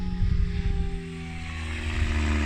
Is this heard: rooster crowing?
no